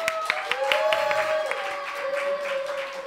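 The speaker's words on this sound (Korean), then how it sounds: "박수!" A church congregation at a Christmas thanksgiving service claps in scattered, uneven strikes that thin out over a few seconds, while a sustained voice carries over the clapping.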